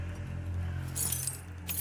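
Car keys jangling in a horror video game, a short metallic clink and rattle close by over a low steady hum, with brighter chinks near the middle and again at the end.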